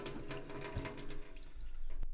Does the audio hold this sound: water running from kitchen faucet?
yes